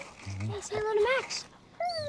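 A dog whimpers and yips in short high, whiny bursts close by, mixed with a person's voice speaking over it.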